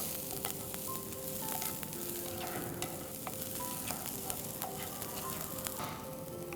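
Broccoli florets and onions sizzling in a hot pan, a steady close hiss of frying with occasional scrapes and taps of a stirring spoon throughout, no voices.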